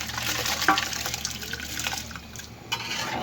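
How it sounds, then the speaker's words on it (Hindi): Rice tipped into a pot of boiling water for potato pulao makes a steady rushing, bubbling wash with a few sharper splashes, close by and with no talk. "माशाल्लाह चावलों का पानी उबल चुका है। अब हम चावल डाल देंगे।"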